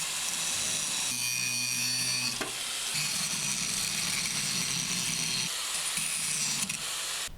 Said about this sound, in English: we're going to grind this off.